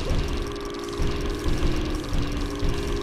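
A steady, rumbling boat engine in the video game LEGO City Undercover drones continuously at close range, idling with slight pulsing knocks and no voices.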